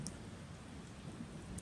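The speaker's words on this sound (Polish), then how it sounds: "Słyszysz, jak deszcz pada na zewnątrz." Rain falling outside at night in the video game Persona 4, a quiet constant patter and hiss over a brief moment, with no talking.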